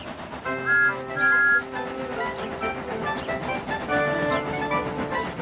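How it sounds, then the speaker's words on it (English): Steam whistles sound in a few short, clear blasts with steady tones, set against a busy background of voices and rumble. "Gordon, James, and Henry were waiting to lead off. They whistled impatiently."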